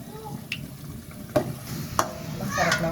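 Coconut milk hisses into a hot pan and is stirred as it cooks, a steady low sizzle with a few sharp scraping clinks of a utensil against the pan.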